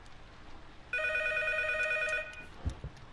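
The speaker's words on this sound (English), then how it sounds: "Answer the damn phone!" A telephone rings in the P.T. Silent Hills horror video game, a bright electronic trill sounding in steady bursts for about a second and a half, followed by a couple of dull low thuds.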